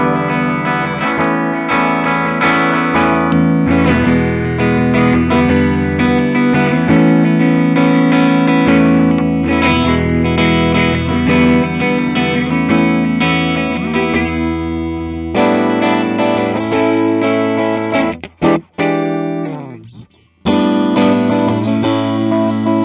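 An electric guitar fitted with Grover tuners plays through an amp in coil-split mode, strummed chords and riffs with effects and distortion ringing out loud and continuous, then a few pauses and picked notes near the end.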